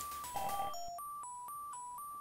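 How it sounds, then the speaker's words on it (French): A telephone in a video game rings with a series of short electronic beeping tones in a regular rhythm, faint and alone after a brief burst of game music at the start. "Le téléphone sonne."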